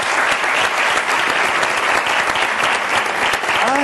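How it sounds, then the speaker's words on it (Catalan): Audience applause in a Catalan television studio, dense and steady clapping that stays loud and even throughout without pause. "donem un aplaudiment"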